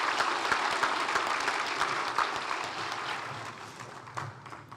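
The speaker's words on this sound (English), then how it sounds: "Can we please have a round of applause for our second group of nominees?" An awards luncheon audience gives a round of applause for a group of nominees, a broad steady patter of many hands that gradually tapers off, with a few faint murmurs underneath near the end.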